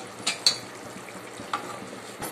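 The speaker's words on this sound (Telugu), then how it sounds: "ఒకసారి కలిపేసుకుని" Chicken fry being stirred in a pan, with a few sharp utensil scrapes over a steady low sizzle, close and fairly quiet.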